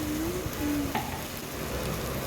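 Vegetable khichdi masala with turmeric and salt being stirred in a pan, a continuous close sizzle with a soft utensil tap midway and no voices.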